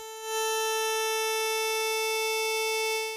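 Omnisphere synth note run through polyphonic Waveshaper distortion contoured by amplifier and filter envelopes, a sustained bright buzzing tone rich in stacked harmonics, swelling in, holding steady for about three seconds, then easing off.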